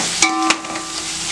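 Chicken biryani masala with chili powder, mint and coriander leaves sautés in a pan, a soft frying hiss broken by two sharp clinks of a spoon against the vessel.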